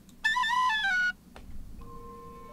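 A human voice imitates the person's own car idling in park with one sustained, slightly wavering whine of about a second. Faint lingering tones and near-quiet follow.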